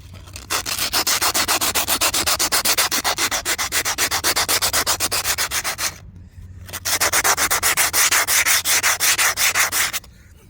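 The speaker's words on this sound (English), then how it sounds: "we're just going to take our sandpaper and smooth this guy over" Sandpaper rubbing back and forth over hardened repair compound on pool coping, rapid rhythmic loud scratchy strokes in two long bursts separated by a short pause, close to the surface.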